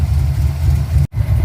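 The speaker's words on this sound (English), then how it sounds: "now it's idling and running" A car engine idling steadily, loud and close, with a low rumbling hum that briefly cuts out for a split second before resuming.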